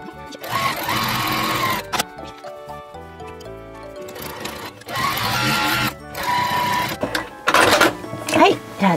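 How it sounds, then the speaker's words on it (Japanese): A sewing machine stitching the side seams of a bag made from tenugui cloth, loud close bursts of rapid mechanical whirring with brief pauses between runs, under a voice talking. "じゃあ次、これを中表に折って両サイド1センチ縫うよ。"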